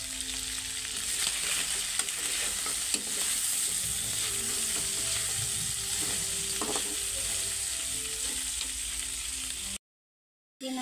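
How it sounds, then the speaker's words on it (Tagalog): Fried chicken adobo sizzling hard in a pan, a dense continuous crackling hiss with scattered pops and light stirring scrapes. It runs loud and close for about ten seconds, then drops to a short silence. "may pitik-pitik pa yung ating fry adobo"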